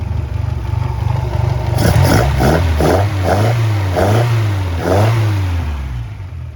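A 1971 Toyota Celica engine running close by, a smooth steady idle with a few brief revs rising and falling in a regular pattern, loud and alone.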